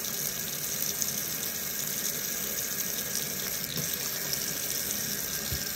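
Tap water pours in a steady, unbroken stream into a sink, a constant hissing splash that holds at an even level from start to finish, close by, with no voices.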